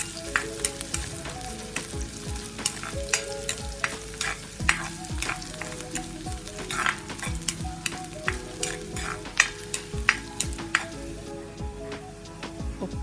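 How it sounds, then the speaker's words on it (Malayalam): Coconut pieces fry steadily in a hot pan for a Kerala beef curry, a continuous close sizzle broken by frequent sharp scrapes and clinks of a stirring spoon, with no voices. "തേങ്ങാക്കൊത്ത് ആഡ് ചെയ്യാം. തേങ്ങാക്കൊത്ത് ഒന്ന് ലൈറ്റ് ബ്രൗൺ നിറമാകുന്നവരെ വെയിറ്റ് ചെയ്യാം."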